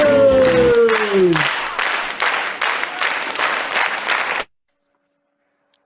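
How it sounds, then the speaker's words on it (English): A studio audience bursts into sustained applause and cheering after a rising whistle-like tone, the clapping rolling in loud waves for about four seconds before cutting off abruptly into silence. "And the crowd goes wild"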